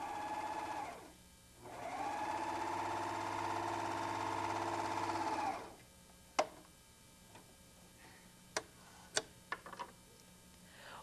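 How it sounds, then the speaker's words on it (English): A White Superlock 634D serger stitching fabric with elastic gives off a steady whirring motor hum in two runs. Sharp isolated clicks and ticks follow as the machine stops. "Once I've begun stitching into my fabric, I'm going to stretch the elastic."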